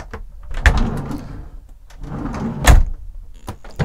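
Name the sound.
cupboards or drawers in a motorhome being opened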